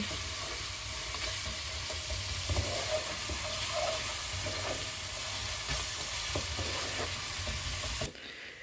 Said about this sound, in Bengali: আদা রসুন বাটা দিয়ে এক দুই মিনিট নাড়াচাড়া করে নিব যেন আদা রসুনের গন্ধটা চলে যায়